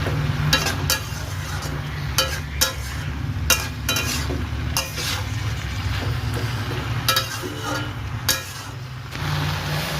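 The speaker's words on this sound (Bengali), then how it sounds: "ভেজে রাখা চিংড়ি মাছ এর সাথে ভালো করে আবারও মিশিয়ে নেবো আর মানে একটু নাড়াচাড়া করে নেবো" Fried prawns being stirred into a chorchori in a pan over a steady sizzle, with repeated scraping and clinking strokes of the utensil against the pan throughout.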